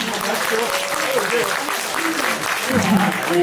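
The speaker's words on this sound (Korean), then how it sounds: "여러분 박수 부탁드립니다" Audience applause in a hall during a Korean politician's talk concert event, with council members being introduced; dense, steady clapping from a crowd at a constant level, with a voice speaking over it throughout.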